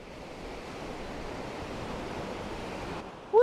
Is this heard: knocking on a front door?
no